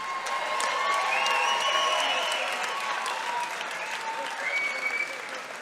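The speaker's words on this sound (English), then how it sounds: "how about a round of applause for these two ladies" A crowd at an Eternal MMA 45 women's fight applauds the two fighters, steady clapping and some cheering filling the hall for several seconds before easing off slightly.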